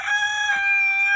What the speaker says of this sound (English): we've got neighbours that let their chickens free range and their chickens are over here